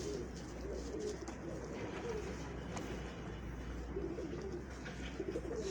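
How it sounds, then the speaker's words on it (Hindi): Ghadi mudi pigeons on a rooftop give soft, repeated cooing calls against a constant low outdoor hum and faint background voices, fairly distant and quiet throughout. "ये अपनी ये घड़ी मुड़ी कबूतर है।"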